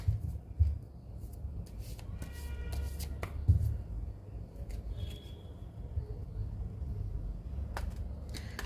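Tarot cards are handled and shuffled up close, soft papery riffles and slaps repeating irregularly over a low, constant background rumble, with no talking.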